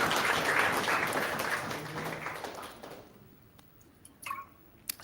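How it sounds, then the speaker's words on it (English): Conference audience applauding after thanks for nine years of community commitment, a dense wash of clapping that swells at first, then fades and thins into scattered last claps. "So give yourselves a round of applause"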